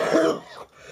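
A person clears their throat and coughs once, close and fairly loud, the rough burst fading within about half a second into quiet.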